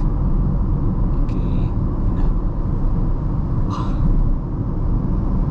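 Wuling Binguo electric car coasting near a beach with regenerative braking engaged, a steady loud low rumble of road and cabin noise with faint brief higher tones, no engine sound and no talk.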